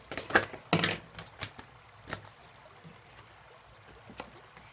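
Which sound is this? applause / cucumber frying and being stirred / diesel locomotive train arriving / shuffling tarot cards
shuffling tarot cards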